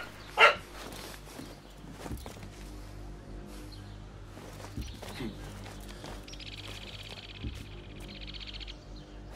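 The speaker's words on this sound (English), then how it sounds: "my dog's going off right now." A dog barks with a loud, sharp burst near the start, then goes quiet under steady indoor noise. Assassin's Creed Mirage game audio continues faintly in the background.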